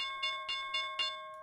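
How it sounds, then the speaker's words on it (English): A stock market opening bell rings in repeated strikes, four or five clangs about a quarter second apart, each with a bright sustained metallic ring that stays fairly quiet and steady. "Let's hear that bell."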